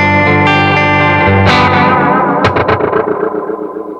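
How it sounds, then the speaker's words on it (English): A guitar plays through an Adineko pedal set for a vintage oil can echo. Loud, sustained chords and plucked notes trail off into repeating echoes, with no voices. "So that's pretty close to a vintage oil can sound."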